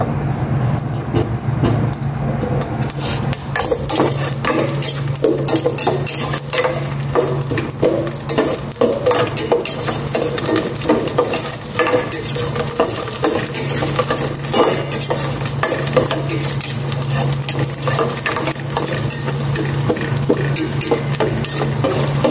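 Garlic sizzles steadily in hot oil in a pan while being stirred, a continuous close frying hiss with scraping stir strokes throughout, during preparation of pineapple chicken.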